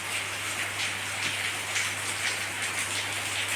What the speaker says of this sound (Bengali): বৃষ্টি ঝিমঝিম ধারা